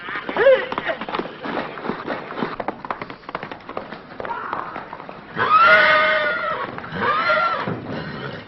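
Cow horses neigh loudly and run out of a gate in a western movie scene, with whinnies rising over clattering hooves and shouting.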